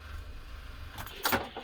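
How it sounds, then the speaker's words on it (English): A starter solenoid on an 8.1 Vortec in a Workhorse-chassis Winnebago, battery down to about 9 volts with no crank, gives a short close burst of mechanical clatter near the end, after a quiet lead-in. "That's the sound of the solenoid engaging and disengaging,"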